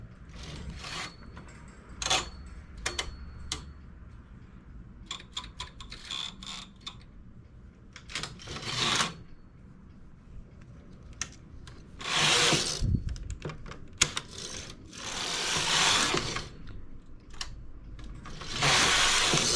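A knitting machine carriage slides across a row in repeated bursts of rasping, ratcheting mechanical clatter. Short clicks are separated by quiet gaps, and a few longer, louder sweeps come near the end, close up with no talking.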